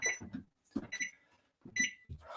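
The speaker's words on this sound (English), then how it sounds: "Center rack, we set my timer." A kitchen timer set for an oven gives three close clusters of short, bright electronic beeps from button presses, near and fairly clear, separated by brief silences.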